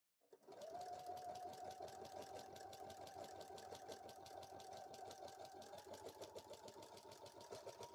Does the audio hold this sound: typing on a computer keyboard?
no